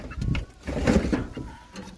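A rooster clucks in a few short bursts up close, with brief pauses between the low throaty calls.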